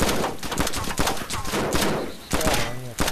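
Bursts of gunfire in DayZ aimed at a gas station fuel pump, loud, close, repeated shots in clusters with brief pauses, over continuous game noise.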